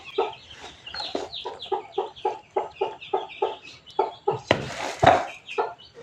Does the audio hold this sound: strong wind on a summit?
no